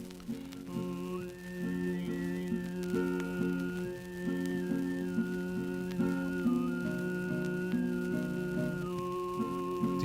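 A high, whistling overtone rises over a low, steady drone in throat singing, its pitch stepping between held notes as one sustained voice continues without pause.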